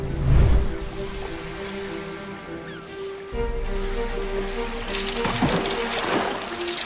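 Ocean waves and surf around a boat at anchor out at sea, a steady wash of water with a low rumble and a tonal hum, swelling louder partway through, with no voices.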